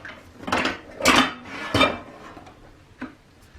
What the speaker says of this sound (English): I am going to make a point of taking this baking sheet out and putting it with the others